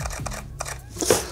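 A camera shutter fires at a slower speed while shooting a dark dining room interior for real estate photos, giving a close, crisp mechanical click pair alone in a quiet room.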